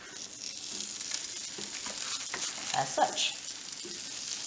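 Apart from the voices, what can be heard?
homemade veggie burger patty sizzling on preheated griddle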